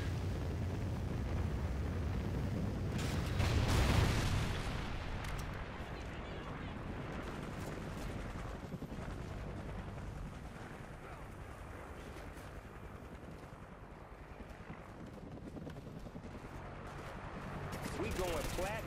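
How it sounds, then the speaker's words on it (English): Trinity rocket killstreak explosions in Call of Duty Ghosts on the Pharaoh map from the Invasion DLC, a loud rumbling blast burst near the start, then sustained crackling gunfire and booms trailing through the rest. "Friendly Trinity rocket sounded inbound."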